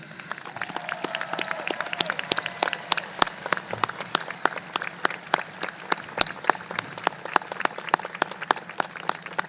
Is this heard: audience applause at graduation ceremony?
yes